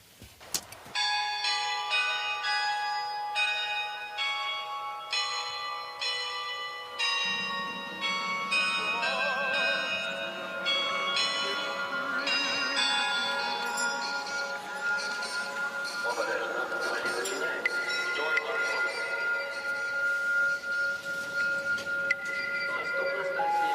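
Church bells ring steadily in a layered, ongoing peal with a low drone joining partway through, filling the whole stretch of Kyiv city ambience.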